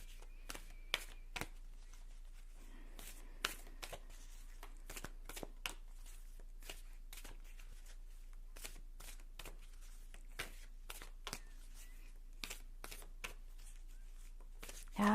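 Tarot cards being shuffled by hand, a steady run of crisp riffling slaps repeating through the whole stretch over a quiet room.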